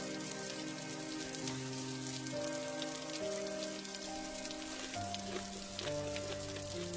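Steady rain patters on a tarpaulin over an open street cart in a cartoon scene, dense and continuous throughout, with a soft musical tone underneath and no talking.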